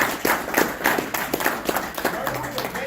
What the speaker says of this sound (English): Let's give y'all self a hand clap.